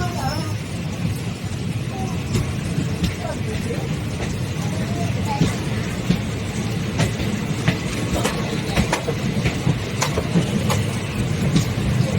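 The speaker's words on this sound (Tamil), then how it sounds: "தஞ்சாவூர் ரயில் நிலையத்துக்குள்ள நம்ம என்டர் ஆகிட்டு இருக்கோம், பாருங்க." A passenger train entering Thanjavur station rolls slowly along with a steady low rumble, irregular clicks and clacks over the rails, and faint background voices.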